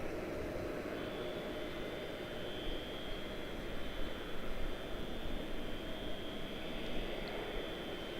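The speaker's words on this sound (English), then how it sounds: "Next up, we have a little guy to Huntsville, ERJ 145." A Piedmont ERJ 145 regional jet departs Charlotte-Douglas for Huntsville, its engine roar a steady, broad rushing hiss with a thin high whine, distant and unbroken throughout.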